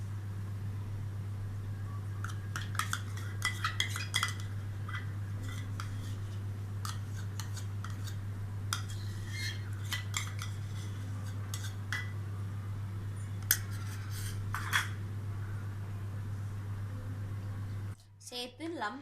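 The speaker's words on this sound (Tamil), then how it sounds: "ஃப்ரெஷ் க்ரீமையும் நல்லா இது கூட மிக்ஸ் பண்ணி விடுங்க." A spoon scraping and clinking against a bowl while fresh cream is mixed into homemade kulfi base, irregular light taps over a steady low hum, with a voice speaking throughout.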